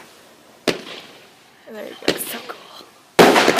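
Professional fireworks bursting at an outdoor show, with three sharp loud blasts spaced out over a few seconds, crackling trails between them, and people talking and reacting excitedly nearby.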